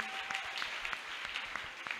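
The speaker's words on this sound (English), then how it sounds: "Strong clap for Jesus." Congregation clapping at a deliverance church service, a soft, distant, fairly uniform patter of many hands with a few sharper claps standing out, continuing steadily and without speech on top.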